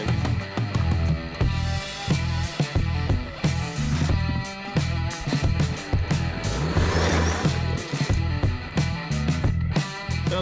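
A JLB 21101 Cheetah RC car with an extreme 120A setup drives fast, its electric motor giving a continuous loud high-pitched whine with surging revs and tire noise, heard alone without talk.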